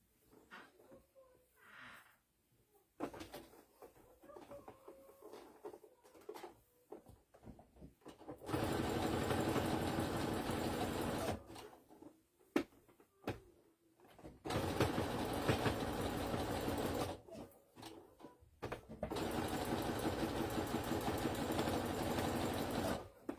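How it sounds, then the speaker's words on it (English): An electric sewing machine top stitches a seam on a breastfeeding bra, running in three loud, steady whirring bursts of a few seconds each, separated by quiet pauses with faint handling clicks. "Now I'm going to top stitch this seam down."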